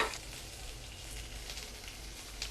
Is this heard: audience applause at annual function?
no